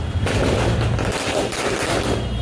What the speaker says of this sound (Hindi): दिवाली है भाई पटाखे फोड़ेंगे